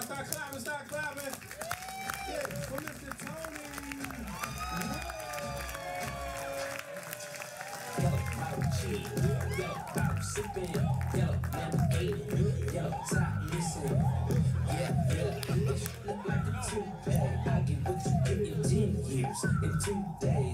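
An audience claps and cheers for a performer as he is called to the stage, a steady crowd noise that swells partway through with whoops, with voices and music mixed in.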